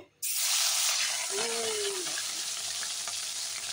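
Pieces of rohu fish dropped into hot oil in a wok burst into a loud, steady sizzle that continues close up, with a brief faint tonal sound partway through.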